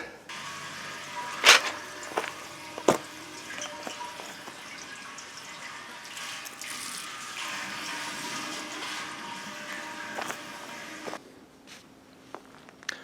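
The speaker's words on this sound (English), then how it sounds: "We're going to fill it up with water now until it overflows." Water pours and gurgles steadily into an opened gas bottle being filled until it overflows, a continuous splashing rush with a few sharp knocks and clanks, close by and fairly quiet, ending in near silence.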